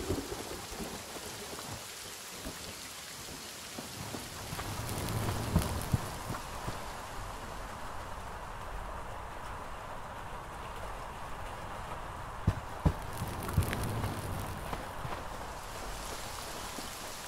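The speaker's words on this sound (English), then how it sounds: "I actually quite like the way rain sounds in this game, especially from the inside of a building" Steady rain falls outside a building in the video game Hytale, heard from indoors as a soft, continuous patter with a low rumble of thunder and a few sharper drip or impact sounds mid-way.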